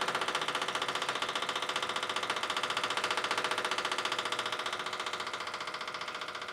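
Electric fuel pump on a PlanB engine priming the fuel system before its first start, a steady rapid pulsing whir that runs continuously and close, with no talk over it.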